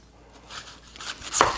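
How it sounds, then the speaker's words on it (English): A knife cuts the ends off an onion on a cutting board, with one sharp chop standing out near the end after softer handling noise. "I'm gonna cut the ends off the onion."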